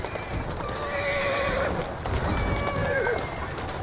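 Horse neighing and whinnying with steady clip-clop of hooves pulling a carriage through the streets in Assassin's Creed Syndicate, the whinnies rising clearly over continuous hoof beats and street ambience.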